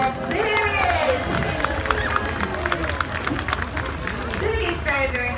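Crowd at a sea lion show in a safari park claps and cheers as the animal enters, lively and continuous, with excited voices and a presenter's speech over the clapping.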